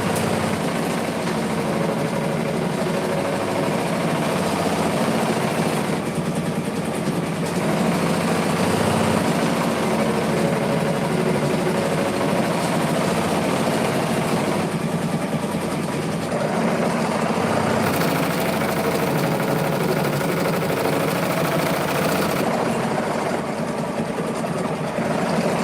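Close, steady drone of a sewing machine stitching a tote bag, running continuously with a constant mechanical hum and brief shifts in pitch as the speed changes.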